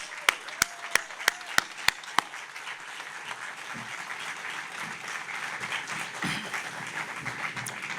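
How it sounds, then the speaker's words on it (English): A crowd at a city's State of the City address applauds, a few sharp, evenly spaced nearby claps at the start giving way to a softer, steady wash of clapping across the hall. "please join me in giving Ann and Frances a round of applause for their service"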